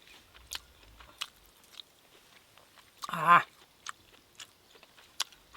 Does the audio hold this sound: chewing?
yes